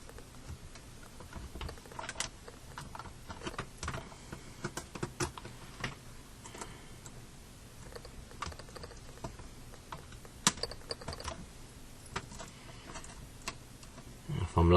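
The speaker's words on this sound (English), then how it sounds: "So what I'm going to do is use a flathead screwdriver." A flathead screwdriver pries the keyboard out of an HP Pavilion G6 laptop, giving scattered close plastic clicks and small taps over a quiet room, irregular and light throughout.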